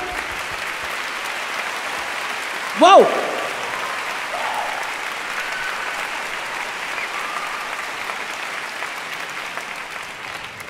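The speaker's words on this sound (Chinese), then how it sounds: "热烈掌声" Warm audience applause greets the conductor before an orchestra performs Rimsky-Korsakov's Scheherazade. The clapping stays steady and full throughout, with a brief voiced exclamation near the start.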